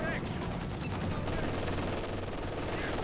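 Machine gun fire in the real-time strategy game Company of Heroes 2, with a DShK heavy machine gun and an MG in action: dense, continuous battle crackle and rattling bursts throughout, with a commentator's voice running over it.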